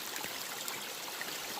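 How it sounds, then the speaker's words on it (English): Tiny creek near a gold prospecting spot flows with a steady, soft rushing and trickling wash, constant throughout with no voices. "Here's the tiny creek."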